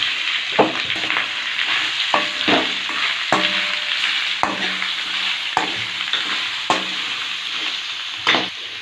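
Chicken pieces sizzle steadily in hot oil with mustard seeds, curry leaves and chillies, broken by repeated scraping stirs of a spoon against the pan, close and continuous with no talking.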